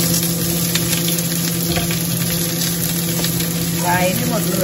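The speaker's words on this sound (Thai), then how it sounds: "เดี๋ยวเรามาผัดเครื่องกันเลยค่ะ" Loud, steady sizzling of aromatics stir-fried in a hot wok with spatula scrapes and stirring, close by and continuous, with a constant electrical hum underneath.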